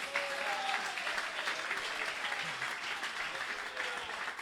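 Church congregation clapping, a sustained wash of many palms at moderate level with a voice briefly audible through the applause.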